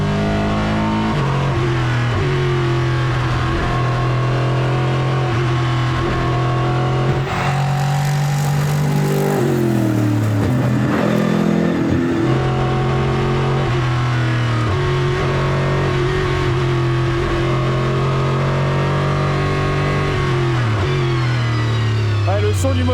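Lexus RC F GT3 race car with a V8 engine, heard on track as a loud continuous engine note whose pitch sweeps up and down through shifts and revving, with people talking over it throughout.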